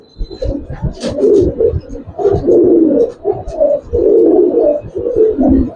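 Close, loud Giribaz pigeons coo in repeated throaty rolling phrases with short pauses between them.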